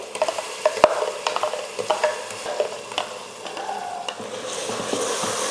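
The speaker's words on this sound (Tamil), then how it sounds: "இந்த பேஸ்ட்டையும் போட்டு நல்லா கலந்து விட்டுறலாம்" A ground mint and coriander masala paste for chicken biryani frying and being stirred in a pan, with repeated scraping strokes of a spoon over a steady close sizzle and no talk.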